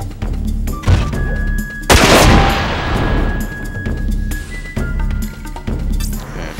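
Heavy weapon fire from the mech combat game Front Mission 4: a few booming shots ring out, with one big, loud blast around the middle trailing into a fading rumble, over steady low game background noise.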